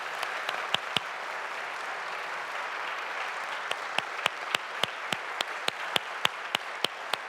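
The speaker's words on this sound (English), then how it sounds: "Let's give a round of applause for these amazing folks." Audience applause at a church gathering on women in ministry, a steady sustained wash of clapping with sharper individual claps popping out near and loud, continuing evenly without voices.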